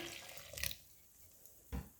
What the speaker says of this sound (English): Add our dissolved fresh yeast with the water.